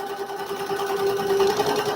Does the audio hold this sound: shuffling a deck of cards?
no